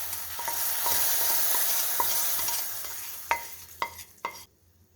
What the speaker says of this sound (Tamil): இந்த டைமில் நம்ம வறுத்து வச்ச அவல் வந்து அப்படியே இதில் சேர்த்திடலாம்.